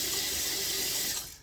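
Steady rush of water from a sink tap, loud and close, running continuously before tapering off near the end.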